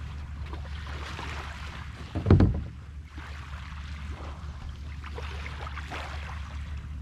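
Paddlers cross open sea by rowboat or kayak toward a tiny island off Satun, with a steady wash of wind and water throughout and one brief, louder splash-like surge near the middle.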